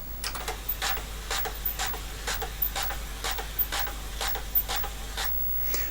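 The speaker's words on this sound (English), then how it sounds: "It looks like the tape drive is working, the printer's working, the computer's working." An HP85B computer's built-in printer printing, a quiet, regular series of short buzzing rasps, one per printed line, repeating steadily over a low hum with no talk.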